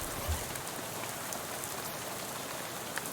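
Soft steady rain patter in the video game Shadows Over Loathing, a faint continuous hiss of falling drops on surfaces with a couple of slightly louder taps, no voices.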